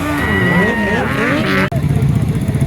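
A Harley-Davidson motorcycle engine at a vintage motorcycle festival, running loud and close with a rising and falling rev, under a crowd's chatter and voices.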